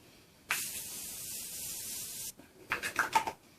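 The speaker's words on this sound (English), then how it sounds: "Okay, last thing is setting spray. I've got my trusty Morphe Continuous Setting Mist here." Morphe Continuous Setting Mist gives one long, even hissing spray lasting nearly two seconds, close to the microphone, followed by soft rubbing and tapping sounds.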